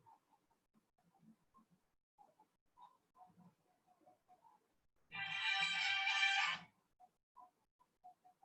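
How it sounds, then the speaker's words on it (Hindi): A phone rings with an incoming Telegram call, a loud steady electronic tone lasting about a second and a half amid sparse quiet speech in a physics class. "टेलीग्राम पे फोन आ रहा है।"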